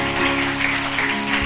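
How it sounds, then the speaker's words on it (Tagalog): Loud, dense applause fills a church worship service, many hands clapping continuously while sustained music plays underneath. "bigyan natin malakas ng palakpak si Jesus"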